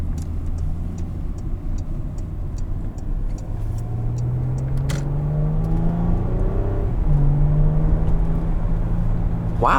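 2019 Porsche Cayenne S engine accelerates in sport manual mode, a rising drone climbing through gears with a brief dip at a shift, heard loud from the cabin alongside faint steady ticking.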